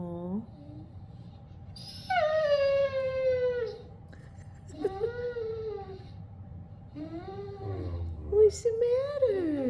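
Great Dane puppy whimpering and letting out long, wavering high howls and whines in repeated bursts, close by, with people talking softly between the cries.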